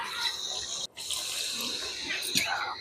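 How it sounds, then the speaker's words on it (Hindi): Steady running water streams continuously, poured into a cooking pan of aseel chicken curry, with a brief pause and a small splash near the end. "उसके बाद इसमें थोड़ा सा पानी डाल देंगे।"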